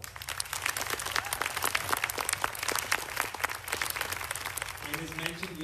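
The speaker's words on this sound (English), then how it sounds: "So can we please give him a round of applause?" Audience applause at a Canadian space strategy launch event, a steady wash of clapping filling the room for several seconds before a voice begins speaking near the end.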